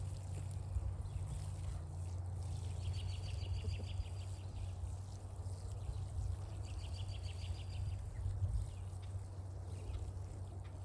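Water pours and trickles steadily from a container over a low background hum, with a couple of faint higher splashy passages.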